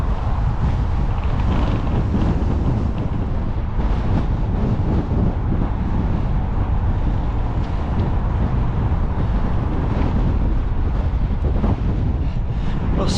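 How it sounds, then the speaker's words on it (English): Strong spring wind buffets a microphone on a bike ride, a loud, continuous low roar and rumble with gusty swells and no clear pauses throughout. "It's lovely, about 10 degrees, but very windy today"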